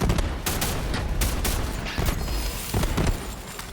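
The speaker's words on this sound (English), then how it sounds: "Just beating this guy in the head with explosive rounds." Rapid bursts of explosive-round gunfire from Borderlands 3 co-op play, dense overlapping shots and booms at steady volume, with a few sharper loud blasts standing out.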